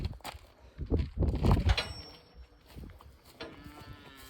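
Juvenile cows on a homestead pasture give a few short lowing moos, fairly close, separated by quiet gaps with faint rustling in between.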